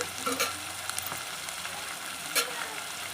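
Curry ingredients fry in a pan for a haleem-style curry served with chapati, giving a steady close sizzle with a few sharp scraping stirs, one louder scrape near the end, and no voices.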